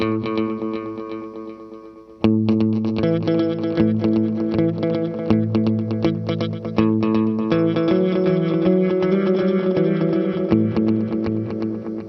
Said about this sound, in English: it's that, that Echo Rec sound with the sort of galloping effect that you get